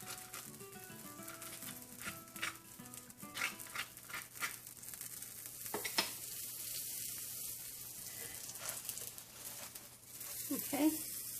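A quesadilla fries in butter in a hot pan, giving a steady close sizzle with some stirring and scraping, and a voice speaks briefly over it.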